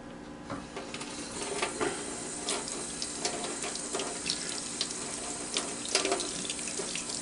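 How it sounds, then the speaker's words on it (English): Sewing machine motor parts are rinsed under a running tap into a sink, a steady splashing stream broken by small clinks and knocks of the metal pieces, close by with no talk. "a good rinse here"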